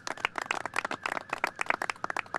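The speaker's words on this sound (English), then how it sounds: "Let's give him a round of applause." Sparse audience applause at a rail-laying completion ceremony, a small group clapping with distinct individual claps audible in a quick, uneven rhythm nearby.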